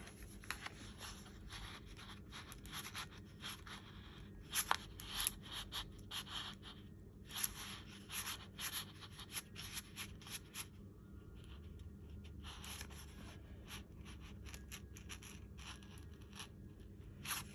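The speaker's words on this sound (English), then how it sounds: "So let me see if I can open this up with my ruler." Plastic ruler scraping and prying open a glued paper tag made from a masterboard, faint close rustles, scratches and short papery strokes in irregular bursts.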